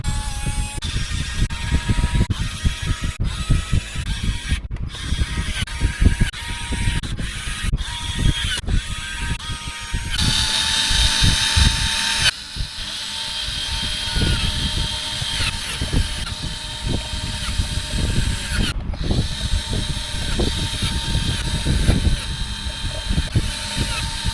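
A Worx WX242 cordless screwdriver drives a long run of screws into an RC build, its motor whirring in repeated bursts with short pauses between screws and louder stretches, up close with no speech.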